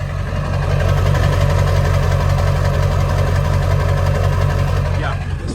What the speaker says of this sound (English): Sounds great, got a good steady idle.